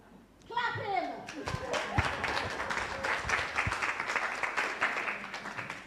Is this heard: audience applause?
yes